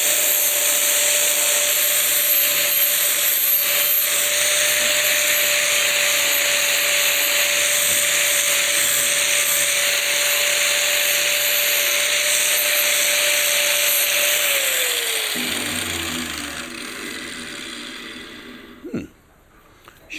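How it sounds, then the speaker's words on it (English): A small sanding disc on a power tool whirs steadily against a shiny old surface while removing a wild bee hive from a cupboard, a constant high grinding drone that winds down near the end with a thump. "That's a little sanding disc."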